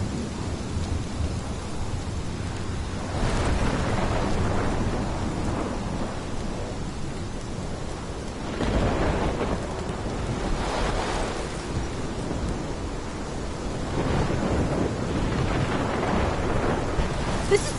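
Heavy rain pours steadily in a Life Is Strange thunderstorm, a dense hiss broken by several deep rolling thunder rumbles that swell and fade, with no voices over it.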